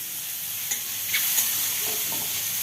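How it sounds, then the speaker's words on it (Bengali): Mushrooms frying in a pan give a steady, close sizzle, broken by a few sharp scrapes and clicks as they are stirred; no one speaks. "এখন মাশরুম রান্না করছি"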